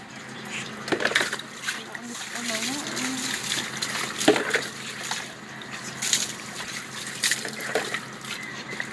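Water being poured and splashing during an exorcism session, a continuous gushing and dripping sound with splatters, heard close by while people talk.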